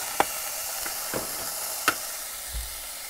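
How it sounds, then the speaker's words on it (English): Food sizzles on a camp stove beside a river sandbar, a steady close hiss with a few soft clicks and scrapes of stirring, no voices. "Well, the food is cooking."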